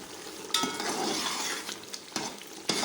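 Beef palao masala with garam masala fries in a pot, a soft sizzle broken by a few sharp clinks and scrapes of a metal spoon against the pot, close and without talk.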